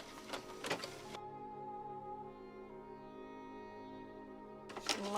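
A machine-embroidery sewing machine stitches down a piece of applique fabric for a diamond quilt block, giving a steady, even mechanical whir that holds for about four seconds between brief handling noises.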